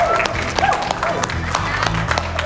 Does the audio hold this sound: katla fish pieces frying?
no